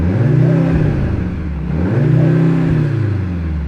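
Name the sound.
Mercedes-AMG C63 engine revving with added electronic speaker noises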